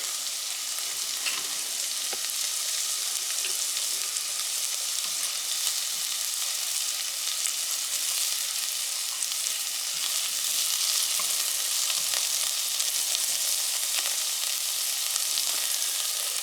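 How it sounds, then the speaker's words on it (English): Four cloves of sliced garlic sizzle in a pan, a constant, even hiss with faint clicks of stirring and no talk. "I'm now going to add the garlic. And in this household, we like a lot of garlic. So this is 4 cloves of sliced garlic."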